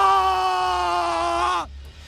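A man in a Hindi horror story lets out a long, sustained scream of pain, loud and strained, holding steady for over a second before breaking off abruptly.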